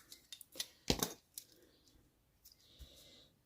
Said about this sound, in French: Et après, je viens couper tout simplement.